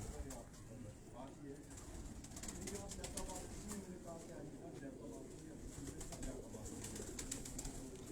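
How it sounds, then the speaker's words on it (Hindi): Kadi-type pigeons, a breed from a Quetta fancier's loft, coo in low repeated rolls throughout, close by, with speech and loft noise mixed over them. "ये कड़ी वाला कबूतर है जी।"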